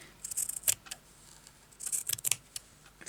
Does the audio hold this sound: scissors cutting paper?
yes